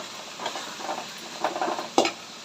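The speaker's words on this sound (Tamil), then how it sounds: "இஞ்சி பூண்டு சேர்த்து கொஞ்சம் ஃப்ரை பண்ணணும்" Squid frying with ginger-garlic paste in a pan, a soft sizzle broken by a few stirring scrapes and one sharper clink of the spoon near the end.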